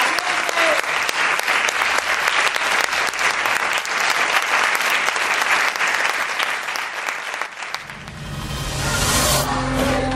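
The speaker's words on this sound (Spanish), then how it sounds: "Os pido un aplauso" An audience at a live event in Toledo breaks into loud, sustained applause that fills the room for about eight seconds. Music and other sounds follow as the clapping fades.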